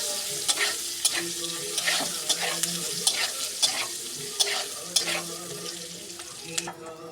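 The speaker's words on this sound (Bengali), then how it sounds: "পেঁয়াজটা দিয়ে একটু ভেজে নেবো" Onion and potatoes fry in a pan in a Bengali kitchen, a close, continuous sizzle broken by repeated scraping stirs and sharp clicks of a spatula, with nobody talking.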